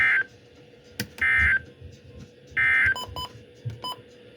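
Emergency alert system test tones on a weather radio warning broadcast: sustained two-tone bursts repeated twice, separated by short clicks and brief beeping tones, clear and close.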